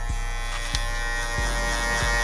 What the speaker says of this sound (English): feeding those hairs into my comb, into my clipper, closing it